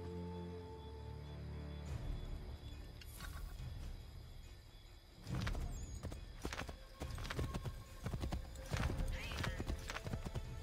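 Horse hooves clip-clop steadily in the Assassin's Creed 3 video game, with an occasional whinny and in-game mechanical noises, fairly loud and continuous over the scene.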